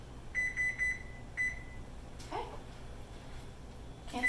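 An oven's control panel gives a series of short, high electronic beeps as cancel is pressed, with a quick clatter and a final beep near the end, all faint and close in a quiet kitchen.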